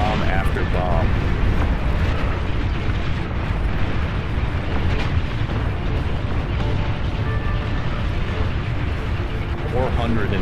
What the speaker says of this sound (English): The absolute aerial hell that is being dropped on these units right now. Bomb after bomb.